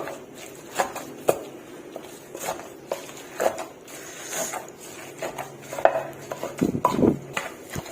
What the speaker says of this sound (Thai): หลังจากนั้นค่ะก็ตำให้มันเข้ากันค่ะ